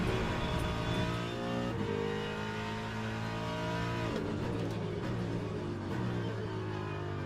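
A Ford Mustang race car in Le Mans Ultimate roars under steady load, its engine note rising through the revs and dipping at brief gear changes, loud and continuous, no talking.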